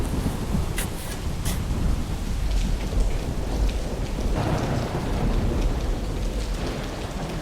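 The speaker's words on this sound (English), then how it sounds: "There was a slight drizzle of rain that night, but at 10 p.m., it started pouring." Heavy pouring rain falls at night, a dense, steady roar close by with distant rumbles of thunder mixed in, no voices.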